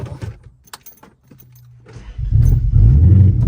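A 2010 Dodge Charger being restarted: keys jangle and a brief low hum give way to the engine catching and settling into a loud, rough idle close by.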